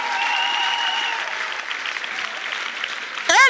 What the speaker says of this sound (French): Acclamation. Clappings.